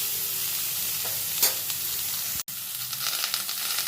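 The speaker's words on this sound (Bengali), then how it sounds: "দিয়ে কিছুক্ষণ একটু ভাজা ভাজা করে নেব।" Winter vegetables are frying with spices, salt and turmeric in a pan, giving a steady close sizzle with a few light stirring scrapes and one brief cut-out midway.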